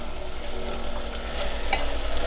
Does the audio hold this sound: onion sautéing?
yes